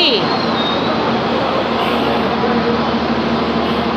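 A light rail train rumbles steadily past at close range, a broad continuous roar with a faint high whine, loud throughout with no clear pauses.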